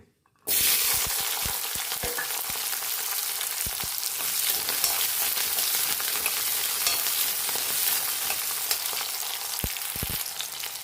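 About fifteen small onions tipped into one and a half tablespoons of hot coconut oil burst into a loud, dense sizzle that continues evenly, broken by scattered sharp pops and spatters.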